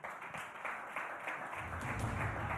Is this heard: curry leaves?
no